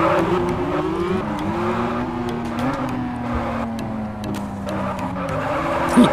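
A Nissan Silvia S15 drifts in Car Parking Multiplayer, its tires skidding in a long, continuous squeal over a steady engine drone, loud and close throughout.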